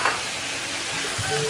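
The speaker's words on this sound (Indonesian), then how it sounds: "Ini mau kita aduk-aduk lagi, biarkan tercampur rata dengan bumbunya ya." Fried chicken pieces are stirred through spice paste in a hot pan, giving a steady, close sizzle with scraping stir noises throughout and no talk.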